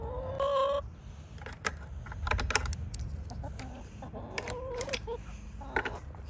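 Backyard chicken coop with a run and wood-chip bedding, where hens cluck and squawk in short, scattered bursts over a steady low rustle and creaking, fairly close.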